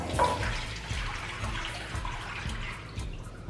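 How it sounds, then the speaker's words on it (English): Lemon Italian ice mixture pours from a container into a casserole dish, a steady close liquid splashing and trickling that runs continuously with slight surges. "So now we're gonna take a little casserole dish and pour our mixture inside."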